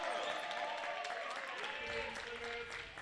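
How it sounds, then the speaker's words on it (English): Crowd at an EGCA Champions League Barcelona stage match cheering and applauding after a home goal, a dense, steady roar of clapping and voices with crowd noise filling the whole stretch at even loudness. "Listen how the crowd celebrated."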